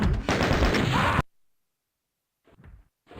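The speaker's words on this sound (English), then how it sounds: "I could just kind of like just sit here and shoot him with a shotgun" A burst of loud shotgun fire in a video game fight against a Cyberdemon, dense blasts filling the first second before cutting to silence, followed by a few faint thuds.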